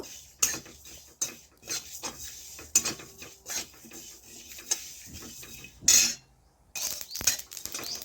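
Whole spices such as panch phoron, mustard and cumin frying in hot oil, with scattered sharp pops and crackles plus metal spoon scrapes against the pan, close and irregular, no speech.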